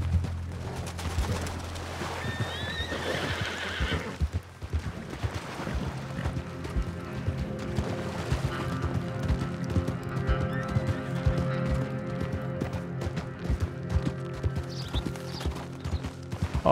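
Horses in Red Dead Redemption 2 clop steadily along with occasional whinnies, set against a dense, continuous game soundscape of ambient noise and music-like tones.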